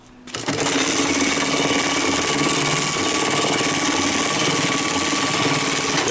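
A BAS326H industrial sewing machine starts up and runs continuously, a loud steady whirring drone with a fine rapid stitching rattle that holds for about six seconds after a brief quiet lead-in.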